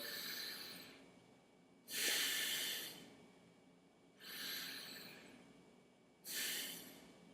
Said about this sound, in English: You take a couple breaths in through your nose.